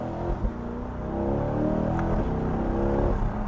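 A 2020 Chevrolet C8 Corvette Stingray Z51 accelerating in track mode, its engine note climbing steadily in a loud, close, continuous pull after a brief low idle, with no talk over it.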